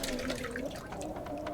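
Continuous rushing, sloshing water in the survival video game The Long Dark, moderately loud and unbroken for the whole short stretch, with no talking.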